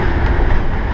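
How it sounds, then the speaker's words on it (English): A train on the Cass Scenic Railroad in West Virginia rumbles past, a dense, loud, close roar of rolling wheels with no pause. "You can see how the people line up to take pictures of the train as it goes by."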